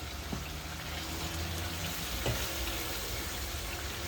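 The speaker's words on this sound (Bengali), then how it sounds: "আর পাঁচ মিনিট বাজিয়ে নেবো পেঁয়াজটা বাজা হয়ে গেছে" Onion frying in oil with ginger, garlic, cumin paste, salt and green chilli gives a steady, quiet sizzle, with a couple of faint clinks of a utensil against the pan.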